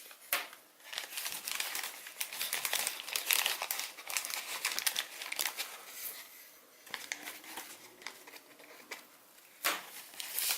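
Origami paper is folded by hand into mountain folds for a Pegasus model, giving close, soft crinkles and crisp crackles in an irregular stream, with a few sharper snaps, and no talking.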